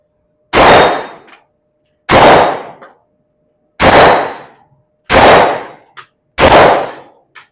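Five loud, sharp reports ring out from a Stribog SP9A2 airsoft gun, single shots spaced about a second and a half apart, each decaying quickly into silence.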